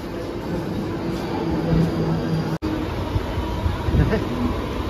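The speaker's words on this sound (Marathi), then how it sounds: "लोकल ट्रेन आली आहे." A Mumbai local train rumbles at a station with a steady low drone and faint clanks, while people talk nearby.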